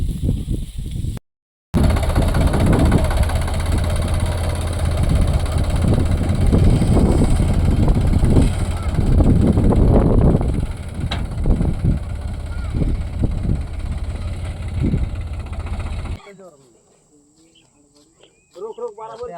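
A Sonalika tractor engine runs steadily while powering a threshing machine outdoors. It keeps up a loud, continuous rumble with gusty wind and people talking over it, then cuts out abruptly near the end.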